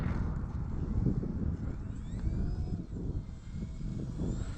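An E-flite Cirrus SR22T radio-controlled model airplane comes in to land without flaps in a crosswind, its electric motor and propeller making a steady, fairly loud whine over broadband wind noise throughout.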